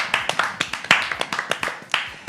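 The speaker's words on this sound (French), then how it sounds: "On peut les applaudir quand même." A TV studio audience claps for arriving guests on a French talk show, with a short burst of brisk, close, uneven handclaps from a small group that keep going steadily for a couple of seconds.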